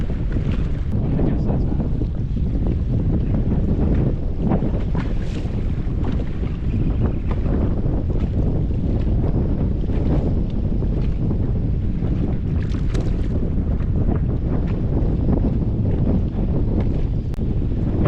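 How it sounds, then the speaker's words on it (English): Strong wind buffets a boat on Lake Shelbyville, a continuous loud roar and rumble of gusts across the microphone with faint water lapping beneath, steady throughout with no clear talk. "apologize for the wind again"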